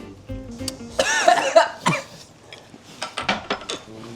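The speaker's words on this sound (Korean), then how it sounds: "누가 기침 소리를 내었는가?" A few short coughs burst out near the start while eating spicy ramen, mixed with clinking dishes and cutlery, followed by quieter clatter.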